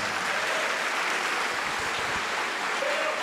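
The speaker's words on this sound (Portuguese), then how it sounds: "Vamos dar uma salva de palmas para o nosso Pai que está nos céus." Steady applause from a church congregation fills the space, dense and continuous clapping at moderate distance for a few seconds with no voices over it.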